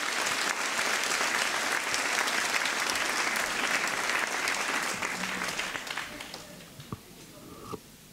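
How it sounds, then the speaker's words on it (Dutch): Warm theatre applause from the audience at a regional song festival, dense and steady at first, then thinning into scattered claps as it fades over the last few seconds. "mag ik een hartelijk applaus voor Pleun van de Schoor"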